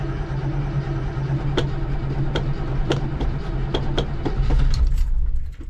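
A 702 cubic inch engine cranks and catches with sharp repeated clicks and pops over a heavy low rumble. It swells louder near the end before settling, close by and with no speech.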